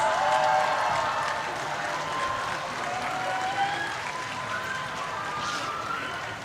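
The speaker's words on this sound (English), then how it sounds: "let's give a round of applause to Ronald Vincent Ofrecio Gonzalez" Crowd applause at the live 2025 bar examination results announcement, a broad, somewhat distant wash of clapping with cheering voices rising and falling across it.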